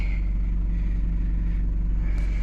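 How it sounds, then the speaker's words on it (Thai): An Isuzu Adventure, a Thai-built seven-seat family vehicle with about 173,000 km on it, idles steadily after starting, a smooth, even low rumble with no talking. "รถสตาร์ททีเดียวติด นี่นะครับ เครื่องก็เดินนิ่งๆเลย"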